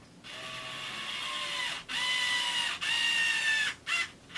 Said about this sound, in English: So I like to tighten the neck down,